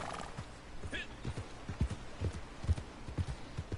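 A horse in Red Dead Redemption 2 trots with steady, uneven clip-clop hoofbeats through rough ground, with a short whinny near the start and a continuous outdoor hiss underneath.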